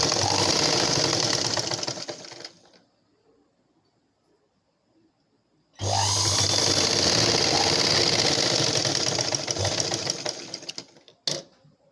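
Sewing machine stitching blouse fabric in two loud, steady bursts of rapid mechanical whirring, stopping for about three seconds in between, with no talking.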